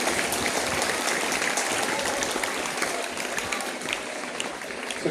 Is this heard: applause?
yes